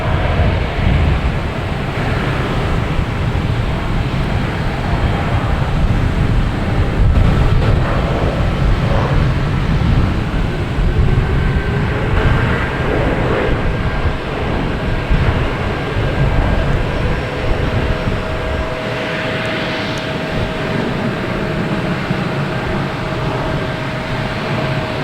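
Steady, loud jet engine roar from airliners on the runway at Boston Logan Airport, a continuous broad wash of sound with a faint rising whine, heard from a nearby plane-spotting position with no talking.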